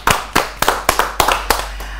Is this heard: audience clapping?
yes